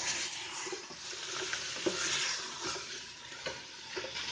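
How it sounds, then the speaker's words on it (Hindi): Mutton chops frying in garlic ginger paste give a quiet, steady sizzle with occasional soft stirring scrapes and pops in a pan, without any talking. "अब मटन चॉप को इसमें तकरीबन 4 से 5 मिनट तक लहसुन अदरक के पेस्ट में भून लेना है।"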